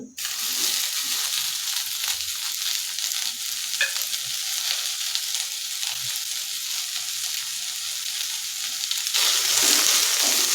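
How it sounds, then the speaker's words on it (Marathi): A large vertically sliced onion fries in hot oil in a kadhai for Puneri misal, giving a close, steady sizzle throughout that grows slightly louder near the end. "त्याच कढईमध्ये एक मोठा उभा चिरलेला कांदा टाकत आहे"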